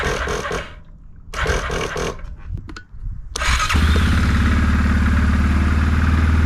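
A Kodiak ATV, freshly refuelled and recently repaired, stutters through several short cranking bursts with a weak battery, then catches and settles into a steady, loud idle close by.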